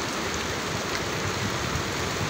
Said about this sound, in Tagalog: Original na po na ulan yan.